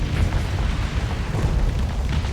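A space station blowing up in the Starsector game, a dense, continuous low rumbling roar of explosions sustained loudly throughout, with no talking.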